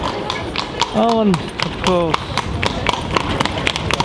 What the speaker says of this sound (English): the lovely horses and carriage